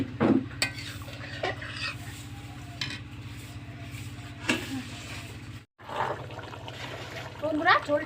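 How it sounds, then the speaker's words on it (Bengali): Village-style chicken curry gravy without potatoes bubbling in a pot, a low steady simmering and sizzling texture with occasional stirring scrapes and clinks, close by, with faint background voices now and then. "এবারে ঝোলটা খুব ভালো করে ফুটিয়ে নেব"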